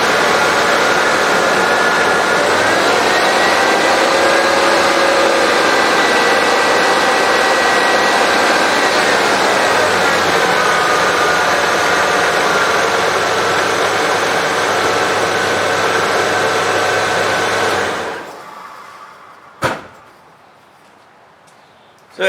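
A running engine driving a charging system under electrical load holds a steady, loud drone for about eighteen seconds, with small shifts in pitch, then cuts off abruptly, followed by a brief clunk and near silence.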